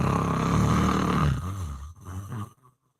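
A person imitates loud snoring with the voice, a few rough rattling breaths that trail off into silence, close and alone.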